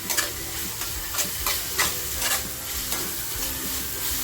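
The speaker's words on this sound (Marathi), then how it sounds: "थोडीशी लसूण जी पेचून घेतली आहे ती लसूण टाकते" Crushed garlic sizzling and frying in a hot pan for an egg tikka pulao, a steady close hiss broken by repeated stirring scrapes, with no one talking.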